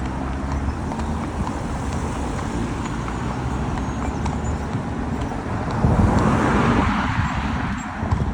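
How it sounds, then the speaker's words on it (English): A lorry clatters along a main road behind horses being hacked, a low rumbling roar that swells and grows louder toward the end over steady hoof clip-clop and wind noise. "There's a lorry clattering behind"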